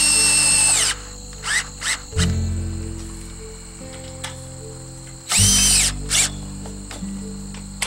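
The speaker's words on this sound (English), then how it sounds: "I just pre-drill a few holes into the board every 4 feet, and then use some lag bolts to anchor the hoops into the board" Power drill pre-drilling holes and driving lag bolts into a greenhouse base board, with loud whining bursts that start and stop, rising and settling pitches, and quieter pauses between runs, nothing said.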